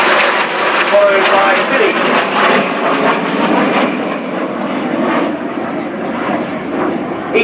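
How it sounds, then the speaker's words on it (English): Display-team jet training aircraft fly past to land at RIAT 2014, a loud, steady broadband engine roar throughout with slight fading, while an announcer's voice talks over it. "They'll break individually to land, led by Jacques, followed by Mirko, followed"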